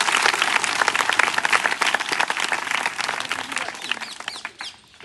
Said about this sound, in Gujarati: એમના માટે પહેલાં તો જોરદાર તાળી પાડવી જોઈએ